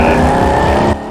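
A car roars past loudly on a TV show, its engine noise dense and close before dropping off abruptly near the end.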